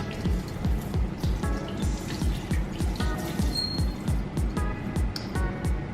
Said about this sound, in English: I'm gonna rinse off my hands again